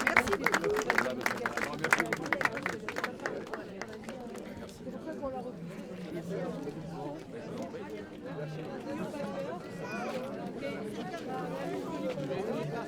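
Applause and scattered cheering from a crowd at the inauguration of the Montluçon fair, strongest in the first few seconds, then fading into a steady hubbub of crowd chatter and voices.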